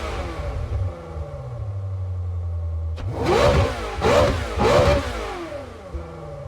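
A Ferrari F430 Scuderia engine in a racing video game idles, then roars through several sharp revs rising and falling in pitch, loud and close.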